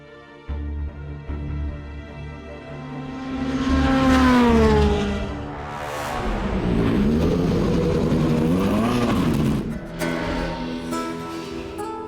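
A Jota Sport race car on the track at Estoril during pre-season testing sweeps through rising engine pitch, a sustained high howl, then a pass with downshifts and revving, fairly close and loud.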